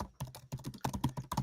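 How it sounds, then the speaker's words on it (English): Rapid, close clacking of a computer keyboard being typed on in quick bursts, loud and crisp with short pauses, no talking over it. "Is that Blevins typing again"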